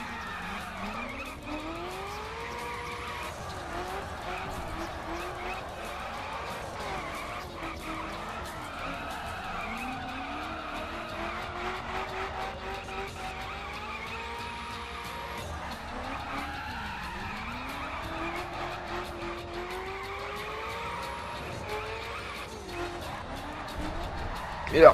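Car drifting in The Crew racing game, tires skidding and squealing in long wavering sweeps over a steady engine drone, continuous and fairly loud throughout with a sharper burst at the very end.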